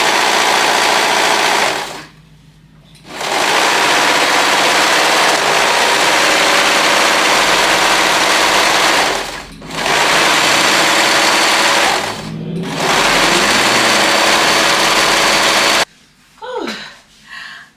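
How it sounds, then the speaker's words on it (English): A serger overlocking the edges of shirt fabric runs in long, steady buzzing bursts, stopping briefly twice before a final pause near the end. "serging around both sides of the edge"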